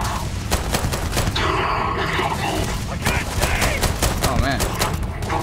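Gunfire in the sci-fi video game Starfield, a dense sustained barrage of rapid shots and bursts continuing throughout, loud and close, mixed with combat noise.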